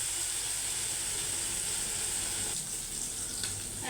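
Puti fish fry in a pan with tomato, producing a steady, dense hiss and sizzle that runs continuously and close throughout, with no talking.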